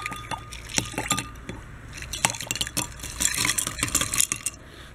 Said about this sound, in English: I've got my glass iced, so I'm gonna pour the ice into this